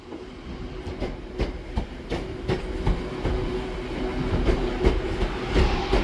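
Class 323 electric train, unit 323 219 from Stoke-on-Trent, rolling through Manchester Piccadilly with a steady rumble, a low motor hum and repeated clicks of wheels crossing rail joints, fairly close and continuous.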